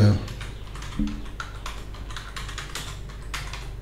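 Close, rapid tapping of a computer keyboard as a search query is typed, a steady run of light clicking keystrokes with a brief thump at the start and no talking over it.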